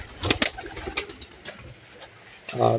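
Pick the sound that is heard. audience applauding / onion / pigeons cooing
pigeons cooing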